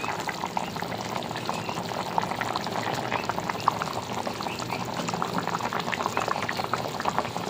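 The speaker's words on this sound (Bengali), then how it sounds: "ঝোলটা ফুটে গেছে আলুও সেদ্ধ হয়ে গেছে" Curry gravy with potatoes and fried parwal dhoka bubbles at a steady boil in a pot, a close, continuous burble of popping bubbles with no talk over it.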